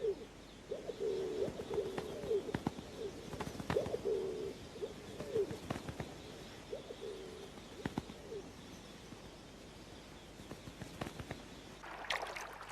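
Rock pigeons coo in the Drakensberg mountains of South Africa, a run of soft, low, repeated coos in steady phrases with light clicks and rustling around them, ending in a brief brighter noise.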